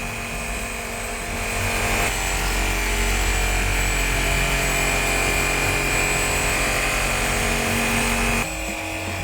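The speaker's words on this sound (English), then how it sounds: "Please use a plunge cutting method with an up and down motion." An Equalizer Ambush windscreen removal power tool plunge-cuts through windshield urethane with a loud, continuous high-pitched buzzing whine that swells slightly as it bites, close and unbroken for about nine seconds.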